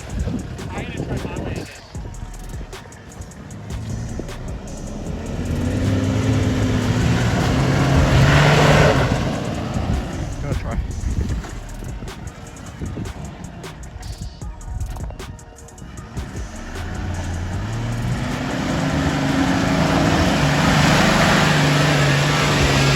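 Toyota Land Cruiser engine labouring along a muddy off-road track after heavy rain at Mt Macedon, a steady close drone with rising and falling revs and wind buffeting, people talking over it.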